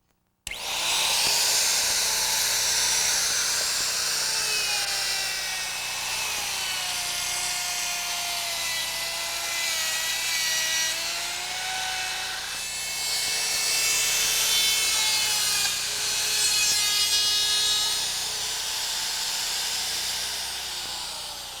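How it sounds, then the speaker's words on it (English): Plunge router cutting a deep pass into a taped wood blank, a loud, continuous high whine with shifting pitch as the bit moves through the wood, running close and alone for the whole stretch. "But I did notice you used the plunge router, Bill."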